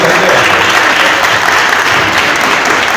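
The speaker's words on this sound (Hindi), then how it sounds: "ताली बजाना बने" Loud, dense, sustained applause from a large audience at a school foundation day celebration, steady throughout with no gaps.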